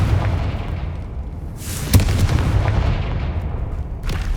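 Confringo blasting spell in Hogwarts Legacy, a single loud close boom with a sharp crack and a rumbling low tail that fades into a dull roar.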